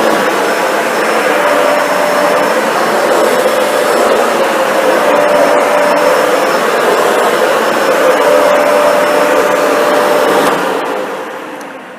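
A Dyson Ball Animal 2 upright vacuum cleaner runs over carpet with a loud, steady motor whine and airflow roar, holding constant before winding down at the end, close up with no talking.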